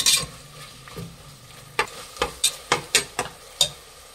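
Tomatoes and green chillies stirred in a pan for soya biryani, a soft sizzle under a run of sharp spoon taps and scrapes against the metal in quick succession.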